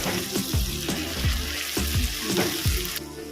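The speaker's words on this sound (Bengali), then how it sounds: "এবার দেব টমেটো পেস্ট যতক্ষণ এটা কাঁচা গন্ধ যায় আমি ততক্ষণ পর্যন্ত এটা ভেজে নেব" Tomato paste fries in a hot pan with steady sizzling, punctuated by regular scraping thumps of a spoon stirring every half second or so, close and fairly loud.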